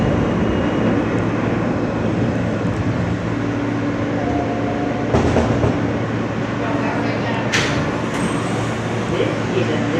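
An R160 subway train on the M line rolls along between stations, a steady loud rumble and rattle of wheels with brief clanks and squeals, while a recorded announcement voice speaks over it.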